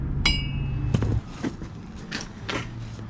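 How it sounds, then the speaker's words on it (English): A small hammer taps at the dust cover on a GMC wheel hub during wheel bearing and half shaft work, giving a few sharp metallic knocks over a low steady hum, close and moderately loud. "A little hammer."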